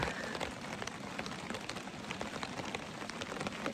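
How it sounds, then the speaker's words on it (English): Steady rain pattering on surfaces at a campsite in the Black Forest, with a dense, continuous hiss of drops and scattered sharper taps throughout, no voices. "On and off again rain."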